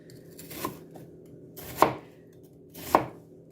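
Three sharp knife chops through an onion on a cutting board, spaced about a second apart, close and clear with quiet pauses between.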